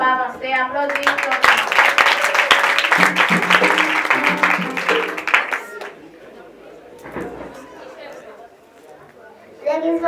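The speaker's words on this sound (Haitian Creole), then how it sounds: "Applaudissements." Applause and clapping from a church congregation at a Christmas Day gathering, loud and dense for about six seconds with chatter and children's voices mixed in, then fading to murmuring talk before a brief rise at the end.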